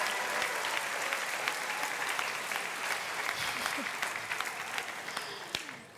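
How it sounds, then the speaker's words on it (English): Sustained applause with cheering from a crowd at a university graduation ceremony, dense steady clapping continuing for several seconds with a few scattered whoops near the end. "Let's ramp up the cheering now."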